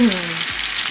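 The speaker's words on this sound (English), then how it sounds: "make sure the oil is hot enough so it sizzles when you put it down" Skin-side-down food hitting hot oil in a pan, a loud close sizzle that bursts at once and holds steady through the brief moment.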